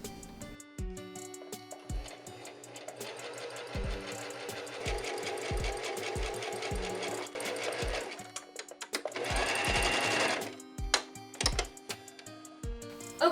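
A sewing machine stitches a dress in short bursts, its fast clattering needle starting and stopping with sharp clicks between runs and one longer louder stretch near the end, close up with no talk.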